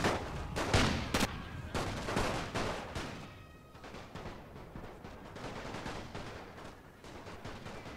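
Gunfire from a war video game set in the Great War, a dense run of sharp rifle and machine-gun bursts crackling through the whole stretch, with several loud close cracks early on over steady background battle noise.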